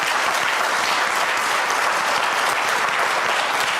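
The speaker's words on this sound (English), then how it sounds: "So I guess a round of applause for Tony Gansel." A steady round of applause from a university campus audience for retiring dean Tony Gansel, an ENT surgeon, with many hands clapping evenly and continuously, close and fairly loud.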